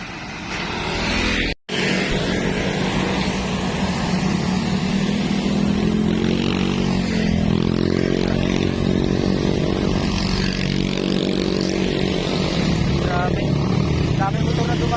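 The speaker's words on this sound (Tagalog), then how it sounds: "Dami motor na dumadaan dito." Motorcycles pass on a road on the way from Quezon City toward Kaybiang Tunnel, their loud engine drone rising and falling close by with a short dropout near the start, while people talk throughout.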